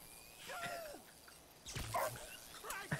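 A dog in the video game GTA 5 barks and yelps a few times in short, uneven bursts, faint and mixed with other game sounds.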